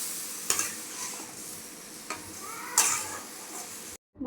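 Masala spice paste sizzles quietly in a pan for Bengali shukto, a soft steady frying hiss with a few sharp utensil scrapes and clinks as it is stirred, ending abruptly.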